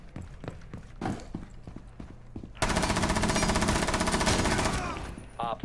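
Rapid automatic gunfire in an online first-person shooter game bursts out loud and close in a steady rattling stream, preceded by scattered footsteps and lighter shots.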